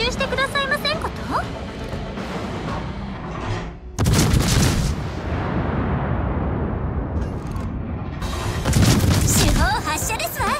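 Main battery guns of the warship Neptune firing in World of Warships, two heavy booming blasts with rumbling tails, loud and close, amid game sounds with a voice speaking.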